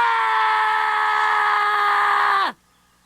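A man's sustained scream in a dramatised spooky story, one long loud held cry at steady pitch that falls away abruptly at the end, leaving near silence.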